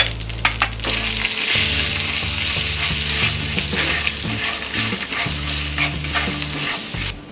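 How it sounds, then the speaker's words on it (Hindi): Tadka of green chili, asafoetida, salt and turmeric powder sizzles steadily in hot oil, a loud, close frying hiss with bursts of crackle and stirring scrapes throughout, with no talking. "ये तड़का मिक्सचर को हम इस राइस में ऐड करेंगे।"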